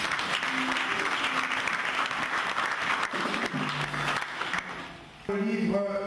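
A church congregation applauds loudly and steadily at a pastor's consecration service, the clapping going on throughout and dipping briefly near the end, with voices and music mixed in.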